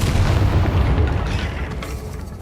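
A Bombarda blast spell from the Hogwarts Legacy game goes off as a loud, deep boom that holds a rumbling roar for a couple of seconds before easing slightly, with no talk over it.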